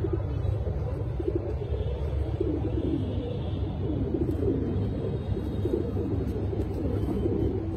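Pigeons in a home loft coo softly and continuously, a low rolling murmur heard close and steady with no talk.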